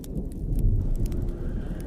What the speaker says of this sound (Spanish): Sentí que afuera llovía con mucha intensidad.